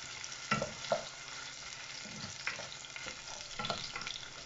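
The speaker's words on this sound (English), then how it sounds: "I'm gonna fry my onions." Red onions fry in a pan with a continuous soft sizzle, punctuated by several brief scraping stir sounds, close up but fairly quiet with no talking.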